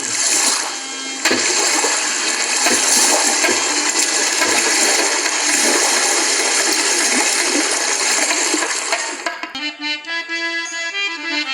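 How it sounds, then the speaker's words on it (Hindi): Flowing water used as a sound effect in a Ramleela stage play rushes loudly and steadily like a flush or gush for about nine seconds, then breaks off into a brief burst of tonal bubbling and trickling. "कुछ पानी की आवाज वहां सुनाई पड़ रही है।"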